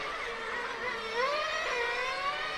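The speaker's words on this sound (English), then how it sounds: "that a Nitro car will be heard around this track." Nitro-powered large-scale GT8 RC cars racing around a track at a European championship in Zagreb, several high-pitched engines whining and rising and falling in pitch as they pass at a moderate distance.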